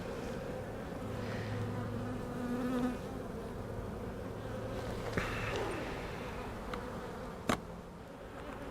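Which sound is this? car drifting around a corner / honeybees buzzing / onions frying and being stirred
honeybees buzzing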